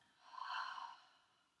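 A slow, audible exhale from a deep belly breath during a seated chair yoga practice, one soft breathy swell rising and fading over about a second, close and quiet.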